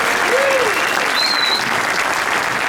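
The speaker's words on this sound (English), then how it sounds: "please give us a round of applause to the engineers and teams at Dell and Intel who actually made today possible" Keynote audience at CES applauding the Dell and Intel engineers: sustained, dense clapping from a large crowd filling the whole clip at steady loudness, with a couple of faint whistles over it.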